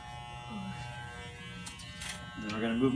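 An electric hair clipper set to the 000 position gives a steady, close mechanical buzz that runs throughout and grows slightly louder near the end, with a person speaking over it.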